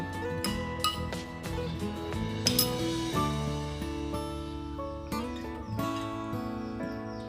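A spoon clinks repeatedly against a bowl of hot rice porridge during a home breakfast, producing bright, irregular close taps and ringing scrapes with no talking.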